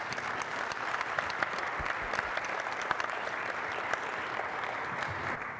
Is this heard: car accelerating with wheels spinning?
no